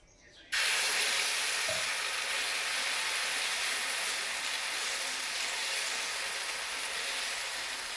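Moong dal batter hits a hot oiled griddle and sizzles loudly at once, a steady close hiss that holds strong and even to the end, with no talk over it.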